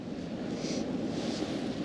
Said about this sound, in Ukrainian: Вітер задуває дуже-дуже-дуже сильно